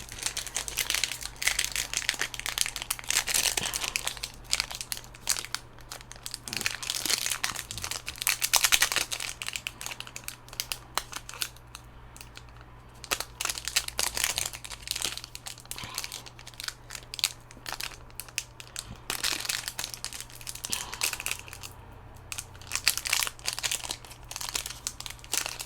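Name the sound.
tearing open a Kamigawa trading card booster pack wrapper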